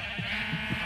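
Sheep bleating in modded Minecraft, a few short wavering bleats spread across under a steady background hum, fairly close and moderately loud.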